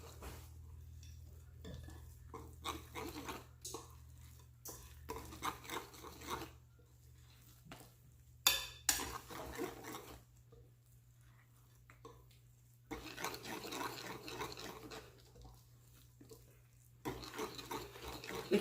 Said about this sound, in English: I'm gonna mix up all of this together.